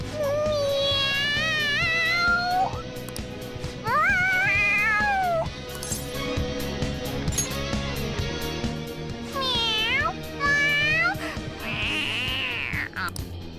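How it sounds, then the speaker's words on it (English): A cat in the video game Persona 5 meows excitedly again and again, rising and falling cries with a caterwauling edge, close and loud over quiet game ambience. "The cat's acting awfully excited."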